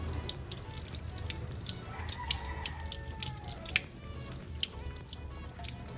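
Tap water runs and splashes over hands, rinsing off baby wash lather, with a steady close stream and scattered drips and splashes at moderate volume.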